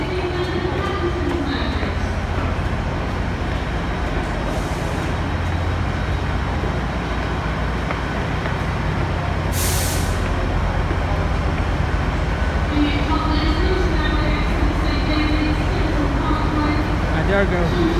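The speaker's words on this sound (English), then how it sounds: "Close up to the train that's going to go to London Paddington. 5-coach service that is." A five-coach train bound for London Paddington sits at a platform in Plymouth station, its engine giving a steady, loud rumble throughout while a voice talks over it.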